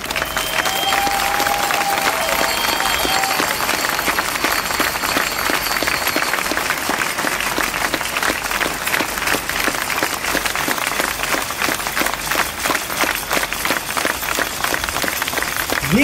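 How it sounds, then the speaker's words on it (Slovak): Large outdoor crowd at a political rally applauding journalists, loud continuous clapping with some cheering that holds steady and close throughout. "Veľký potlesk pre novinárov, pre organizácie, ktoré dohliadajú nad týmto štátom."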